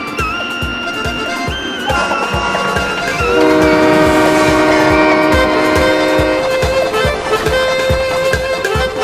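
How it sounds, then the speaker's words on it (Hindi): A cartoon train chugs along with a steady rhythmic clickety-clack while its whistle blows loud, long and tuneful over the running wheels. "सीटी देखो कैसे बजी कुक कुक कुक।"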